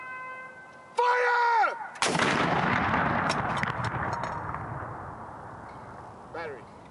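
A 105mm artillery gun fires a single loud, sharp blast that rolls out into a long fading rumble, preceded by a brief whistle-like tone, with a voice faintly heard nearby.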